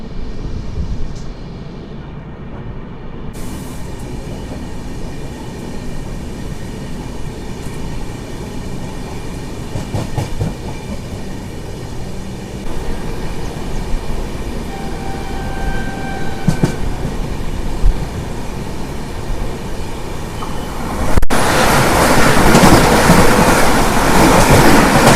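Charminar SF Express train rolling along on its journey toward Hyderabad, a steady loud rumble of wheels and carriage noise throughout, with faint tonal squeals midway and a sudden louder, brighter roar of rushing air near the end.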